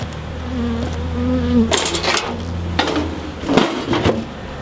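Bees hum steadily around an open beehive during a pre-winter hive check, a low continuous buzz near the hive, broken by several sharp knocks and scrapes of wooden frames and hive parts being handled.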